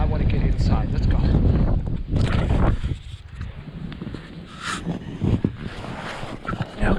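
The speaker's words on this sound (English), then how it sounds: "the wind is starting to get bad" Strong wind gusting outside a snow shelter, roaring and buffeting the microphone in heavy, uneven surges that ease briefly midway before rising again.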